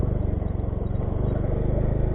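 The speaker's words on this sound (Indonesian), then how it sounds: "ini mobil lewat sini juga lagi" A car passes along a muddy rural road through green rice fields, its engine a steady close rumble with a rhythmic low throb, heard alongside what may be a motorcycle's own engine, with no talk.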